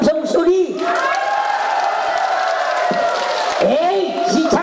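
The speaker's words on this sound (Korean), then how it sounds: "시청서 보러 온 것이 참 잘했다는 분 함성 소리" An audience at a Korean pumba variety show in a Seodaemun theater lets out a loud cheering roar, broad crowd shouting sustained for several seconds with a voice over the top at the start and end.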